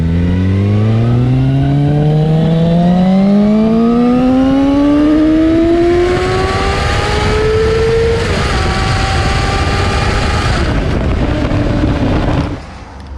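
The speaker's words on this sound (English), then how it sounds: "as it stands now as a stock Yoshimura, it sounds beautiful" A 2016 Suzuki GSX-R750 sport bike with its stock Yoshimura exhaust revs hard and alone, the pitch climbing steadily over several seconds, holding high, then dropping back as the throttle closes near the end.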